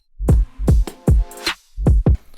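Reversed kick and snare hits in a dance track break, swelling backward into one another in a punchy rhythmic pattern of about six loud hits over a couple of seconds, with no voices.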